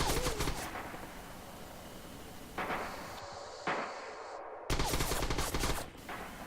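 Gunfire in Red Orchestra 2, a World War II shooter: loud bursts of close rifle and machine-gun shots, broken by short quieter gaps with a low rumble, then a final heavy volley.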